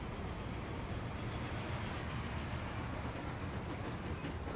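A train rolls into a station in the Transport Fever game, set around 1939, with a steady, continuous rumble of wheels and rail noise held at an even level throughout and no voices.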